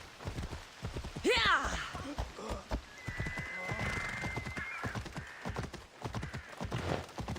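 A flaming magma horse in Assassin's Creed Odyssey trots with a steady, close clip-clop of hooves throughout, broken early by a loud whinny, while a sustained tonal hum rises in the middle under the game's background noise.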